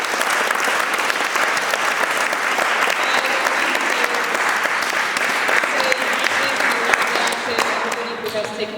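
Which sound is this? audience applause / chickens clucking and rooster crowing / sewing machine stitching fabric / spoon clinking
audience applause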